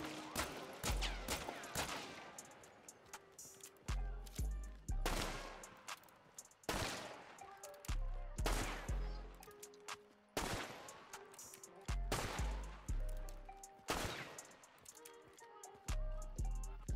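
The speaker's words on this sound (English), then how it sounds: "how quick you can get off 6 shots with each pistol" A pistol fires repeatedly in the video game Hunt: Showdown 1896. Sharp, close shots come in quick groups, each crack followed by a ringing tail, with short pauses between groups.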